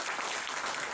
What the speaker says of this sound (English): a round of applause for all the work they do.